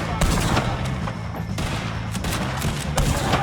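Rapid gunfire in Red Dead Redemption 2 as O'Driscoll gang members are shot at, a dense continuous barrage of overlapping shots and bangs filling the whole stretch at steady loudness.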